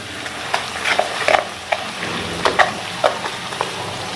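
Half a teaspoon of whole cumin seeds frying in hot oil for dhaba-style daal mash: a continuous bright sizzle dotted with small irregular pops and crackles, close and fairly loud, no talk.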